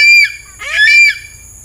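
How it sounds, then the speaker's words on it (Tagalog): A pet bird gives an unusual, raspy call with a phlegmy, cough-like quality, two loud close squawking bursts separated by a short pause. "kung mapapansin niyo mga kasinag yung huni niya,"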